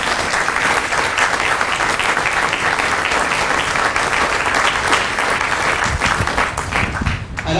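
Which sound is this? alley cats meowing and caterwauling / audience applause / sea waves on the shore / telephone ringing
audience applause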